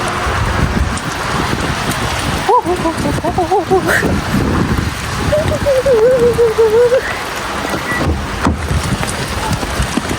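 Steady rain patters and hisses on a surface throughout, while a voice hums and murmurs over it near the middle.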